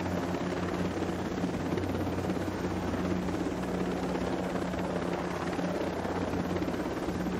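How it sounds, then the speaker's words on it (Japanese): A large helicopter's rotor in the video game Ghost Recon Breakpoint makes a steady, continuous thrumming drone with no other sounds and no break for the whole stretch. "大型のヘリなんで、"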